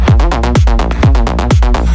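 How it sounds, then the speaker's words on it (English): Saw wave synth layer made in Serum, loud and buzzy, with repeated plucked notes whose punchy attacks sweep downward in pitch, heard alone without voices. "he brings in these saw wave layers that sound like this"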